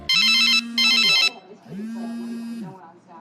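An electronic telephone ringtone sounds in two loud bursts, then a softer warbling ring follows beneath low talk at a dinner table.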